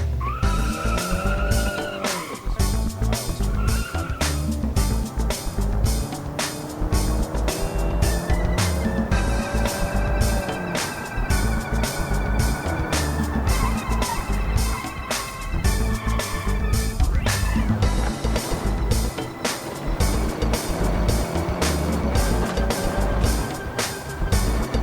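A car in the BeamNG.drive driving game revs hard and screeches its tires almost constantly, with engine tones rising and falling through gear changes and skids, loud and close for the whole stretch.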